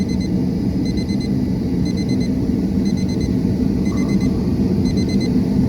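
A heater temperature controller beeps in short, high, evenly spaced bursts, about one per second, over a loud, constant roar of background noise.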